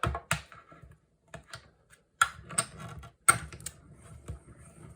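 A Stampin' Up Mini Cut & Emboss machine feeding an embossing folder through its rollers, with soft close clicks, rattles and short mechanical grinding bursts separated by brief pauses.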